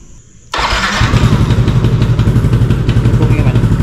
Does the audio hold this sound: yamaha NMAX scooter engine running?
yes